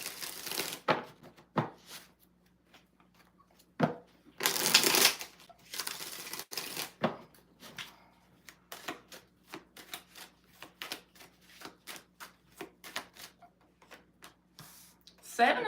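Tarot cards are shuffled in bursts of quick riffling and soft snapping, close and fairly quiet, with short pauses between shuffles.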